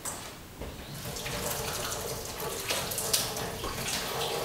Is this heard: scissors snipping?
no